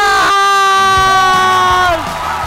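A television comedy-contest studio audience roars with loud cheering and whoops to welcome a contestant, the crowd noise sustained and close, with some held shouted tones over it.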